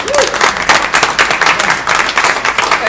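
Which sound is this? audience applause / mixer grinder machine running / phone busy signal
audience applause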